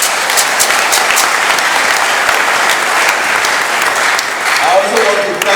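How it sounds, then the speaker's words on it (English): Dense, loud applause from a university ceremony audience rolls on steadily throughout, with individual sharp claps standing out near the front and voices murmuring underneath. "Please, they deserve an applause."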